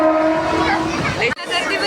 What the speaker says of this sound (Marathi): ट्रेन आता पोचली आहे